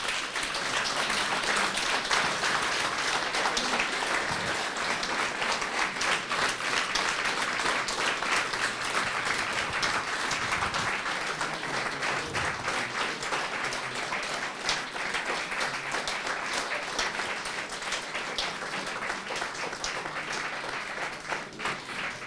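An audience at an evening gathering of the Cenacolo community gives four speakers a long, big round of applause, dense steady clapping from a full hall that sustains throughout.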